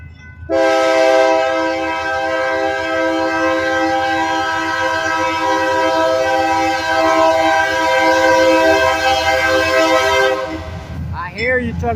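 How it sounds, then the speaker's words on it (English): A train sounds a long, loud, sustained whistle while moving through a rail crossing in Old Hickory, Tennessee. The harmonic blast holds steady for about ten seconds and then stops, and a voice briefly follows. "Blowing the whistle."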